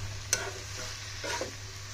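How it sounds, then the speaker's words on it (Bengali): Half-ripe tomatoes stir-fry in a pan, a soft steady sizzle broken by two scraping stirs of a spatula, close and fairly quiet with no voices. "এগুলো হচ্ছে টমেটো মানে আধা পাকা টমেটো ভাজি করে নিচ্ছি"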